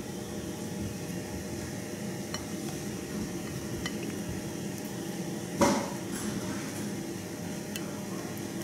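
A spoon stirring balsamic vinegar into homemade pizza sauce in a bowl, a steady soft scraping and swishing with a brief louder clink partway through and a voice faintly present.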